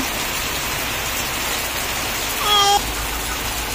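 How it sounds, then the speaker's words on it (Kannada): Heavy rain falling outdoors, a dense steady hiss throughout, with a brief higher tonal chirp near the end. "ಇವಾಗ ಮಳೆ ಆಗ್ತಾ ಇದೆ, ಎಷ್ಟರ ಮಳೆ ಆಗತೈತಿ ಅಂಥೇಳಿ ಅನ್ಸತೈತಿ"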